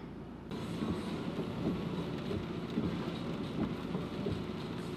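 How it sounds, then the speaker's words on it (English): Light rain falling at a campsite in Banff National Park, a steady soft patter with scattered drops, fairly quiet and continuous with no talking. "It is raining a little bit, but it should clear up, hopefully."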